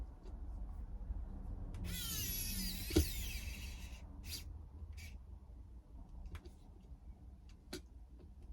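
Long screw driven by hand with a new magnetized screwdriver into a 2x4 for a Camel Trophy body build: a burst of squeaky, creaking turning, a sharp knock, then scattered light ticks and taps close by.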